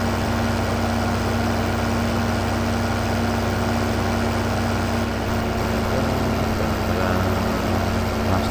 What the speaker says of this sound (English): Look at this tractor just overtook the car